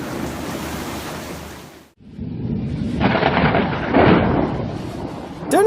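Heavy rain and wind roar, then a sudden near-silent gap before a loud crack and rolling boom of thunder from a close lightning strike, the rumble swelling and staying loud to the end.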